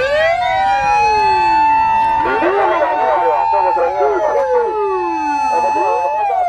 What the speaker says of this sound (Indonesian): Wow, ada mobil ambulan pemadam.